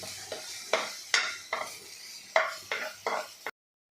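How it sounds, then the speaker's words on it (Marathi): Ginger, garlic and green chilli paste being sautéed in a pan, heard as a soft sizzle punctuated by about seven distinct spoon scrapes and knocks against the pan, close and fairly quiet before cutting off abruptly. "आपल्याला खमंग असं हे परतून घ्यायचं आहे दोन तीन मिनटासाठी म्हणजे आलं लसूण आणि मिरची याचा कच्चेपणा कमी होईल"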